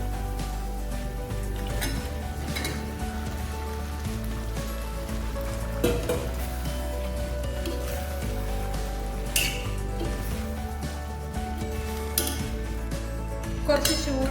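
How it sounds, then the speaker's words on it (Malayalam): Chicken pieces going into a hot pan for chicken biryani and being stirred, with steady sizzling and frying under repeated clinks and scrapes of a spoon against the pan, close and continuous throughout, no talking. "ഇതിലേക്ക് നമുക്ക് ചിക്കൻ ആഡ് ചെയ്ത് കൊടുക്കാം."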